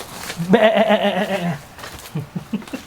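A single loud, wavering sheep bleat sounds nearby, followed by muffled background noise and faint voices.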